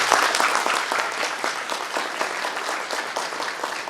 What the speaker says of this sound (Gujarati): એક જોરદારથી તાળીઓ આપવાની મારી વિનંતી છે